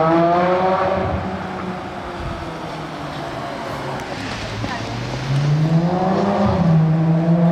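A Lamborghini GTO sports car engine roars and revs as it pulls up in Monaco, loud and close with rising and falling pitch sweeps, while people talk over it.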